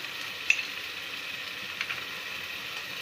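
Spices with ginger-garlic paste, kasuri methi and cumin powder frying in hot oil, a steady soft sizzle with a couple of faint clinks, no voices.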